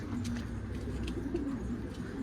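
A caught runaway pigeon, found hiding under a car, gives soft low coos up close against a steady rumbling background, with no talking.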